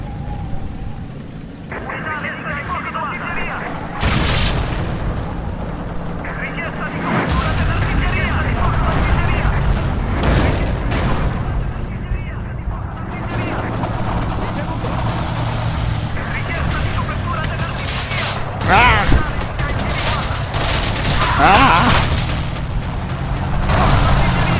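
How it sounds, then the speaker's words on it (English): Artillery fire in the WWII game Forgotten Hope 2, heavy booms and rumbling impacts spread through a steady din of battle and vehicle noise, with a player talking over it. "Artillery is murdering us"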